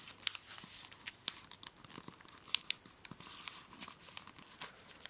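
Paper being creased and folded into an origami frog gives soft, faint crinkles and sharp little taps at an uneven rhythm, quiet and close with no talking.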